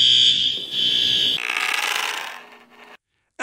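A fire alarm sounding during a live news broadcast, a loud shrill electronic tone for over a second, then a buzzing rattling burst that fades into near silence.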